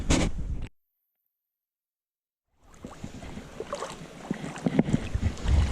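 Wading downstream through a river in Kodiak, Alaska, with splashing and sloshing water around the legs, close and uneven, broken by a two-second gap of silence before resuming with wind noise.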